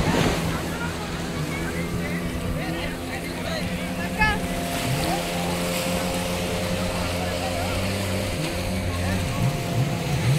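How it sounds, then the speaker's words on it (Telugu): A speedboat runs past a calm, uncrowded beach in Goa, its steady engine drone continuous alongside surf and wind, while voices chatter and call out nearby throughout. "Wow, speed boat speed boat speed boat."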